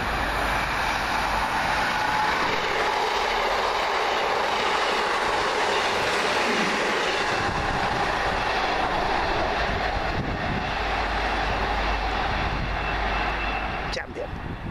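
A TransPennine Express passenger train on the Manchester Airport to Blackpool North service passes near East Didsbury, giving a steady loud rumble with wheel noise. It fades slightly near the end.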